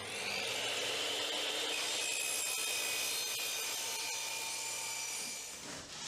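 A saw cutting a laminate floor plank to size, making a steady, fairly quiet rasping cut that runs continuously for about six seconds before easing off at the end.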